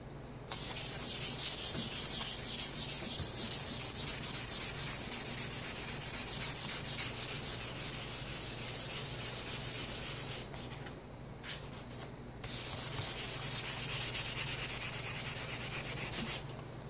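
Old paint and rust being scrubbed off the barrel of a Marlin 81 DL rifle, a loud continuous close-up rasping scrub with a brief pause near the end before resuming.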